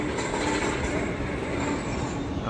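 A train at a packed railway platform on Dussehra, a close, continuous rumbling roar of rolling wagons with a faint high squeal of wheels over it.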